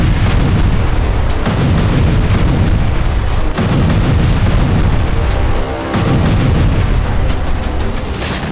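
Bombs strike a Gaza refugee camp at night in a loud, continuous barrage of heavy booms and blasts, with several deep impacts rolling over one another and no voices.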